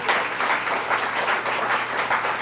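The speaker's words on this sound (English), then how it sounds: "So can we give her a round of applause?" Audience at a Dr. Martin Luther King, Jr. scholarship reception in Meadville applauding a scholarship recipient, steady pulsing clapping from a moderate crowd in a room, sustained and fairly loud.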